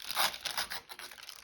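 Paper being torn by hand for a junk journal, one short, quiet ripping pull with crinkly edges, close and alone.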